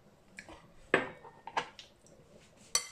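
A summer salad dressed with olive oil gets tossed in a bowl, producing a few sparse, faint clinks and scrapes of utensils against the dish. The sounds come at irregular intervals, with quiet between them and no talk.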